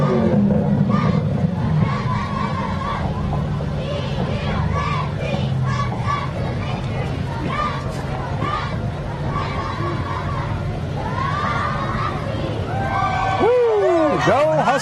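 A cheer squad cheers and shouts at a Christmas parade in Bakersfield, a lively crowd of young voices chanting amid constant hubbub, with a whistle-like tone near the end.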